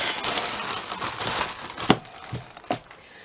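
A jumble of light silicone moulds tipped out onto a table, tumbling and clattering in a continuous rustling rush followed by a few sharper knocks as they settle.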